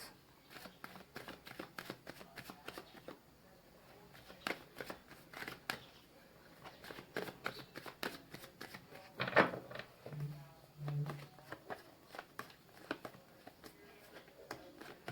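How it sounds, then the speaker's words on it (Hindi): Tarot cards are handled, shuffled and drawn from a deck, giving quiet rapid riffles and soft snapping flicks in bursts, with a few sharper taps and some faint talking in the background. "इस डेक से 2 कार्ड निकालेंगे गाइस"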